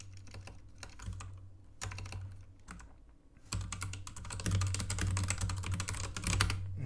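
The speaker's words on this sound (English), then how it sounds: "let me type that in before I forget" Rapid typing on a computer keyboard, close and fairly quiet, comes in uneven bursts of clicking with short pauses between, growing denser and steadier in the second half.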